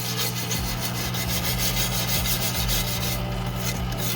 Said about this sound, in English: This is working. Easily. Because I'm not even putting pressure on this to get all this grease off.